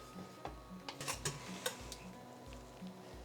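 Spoon stirring Danish parsley sauce in a pot, with quick scraping clinks and soft sloshing repeated steadily over a low background hum, close and fairly quiet.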